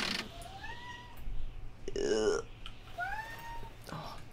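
Cat meowing in the video game The Long Drive: several rising-falling meows in succession over a quiet background, moderately close, with brief mechanical creaks between them.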